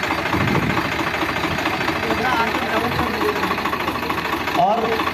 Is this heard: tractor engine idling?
yes